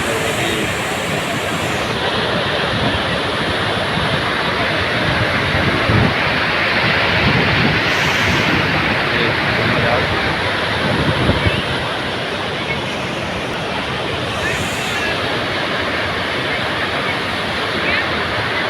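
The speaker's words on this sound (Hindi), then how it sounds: "पानी की छिटके बौछारें यहाँ तक आ रही है मोबाइल में भी।" Continuous loud roar of rushing water and spray from the Narmada river near Jabalpur, a steady broadband wash with wind buffeting the microphone and no clear speech throughout.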